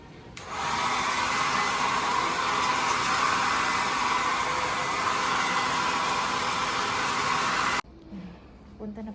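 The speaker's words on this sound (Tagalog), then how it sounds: "Si Lady, blower ko na lang yung hair niya." A hair dryer blows a small child's hair, a loud, steady close whoosh that runs unbroken for several seconds before cutting off abruptly, leaving quiet room sounds.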